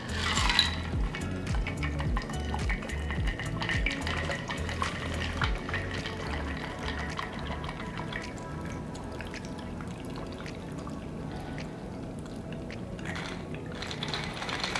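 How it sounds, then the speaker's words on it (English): A cocktail is strained into a glass, a continuous close trickle of liquid with faint clinks of ice held back by the strainer, steady and moderately loud with no talking. "And I'm going to strain it."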